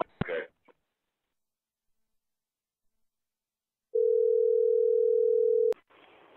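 A telephone dial tone hums steadily for about two seconds after the call is hung up, preceded by a brief clunk of the handset and silence, then cut off by a click.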